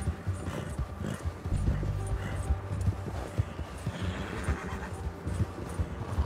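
Steady clip-clop of a horse's hooves in Red Dead Redemption 2, trotting along with rumbling ambient game noise and a faint whinny mixed in.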